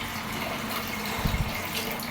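Water poured into a tamarind masala being prepared for fish curry, a steady close rushing splash with a few gurgling bubbles, heard alone without talk.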